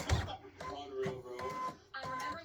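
An embroidery machine stitching a pink breast cancer awareness ribbon design whirs and clatters in quick repeated bursts, close and moderately loud, with a short voice at the start.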